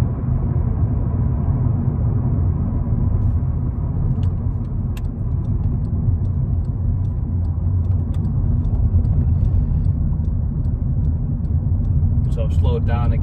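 Interior drone of a VW Golf with a faulty automatic gearbox on the road, a steady low engine and road rumble throughout, with someone talking over it.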